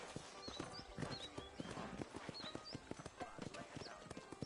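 Horse hooves clip-clop in a steady trotting rhythm in the Red Dead Redemption video game, close and distinct, with a character's voice and a brief whinny over the beat.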